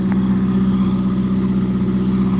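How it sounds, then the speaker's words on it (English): A Ferrari 488 GTB engine roars loudly and close by, its sound strong and sustained across the whole stretch without pause. "Should we do one more rev?"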